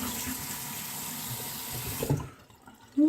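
Water runs steadily from a tap for a rinse after a shave, then cuts off abruptly, leaving near quiet before a brief louder knock.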